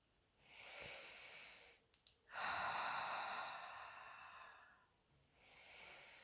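Slow, deep breaths during a yoga session: a long inhale followed by a fuller, louder airy exhale and another breath beginning, close and soft with no speech.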